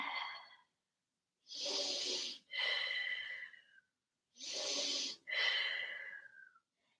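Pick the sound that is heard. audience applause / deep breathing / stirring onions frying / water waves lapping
deep breathing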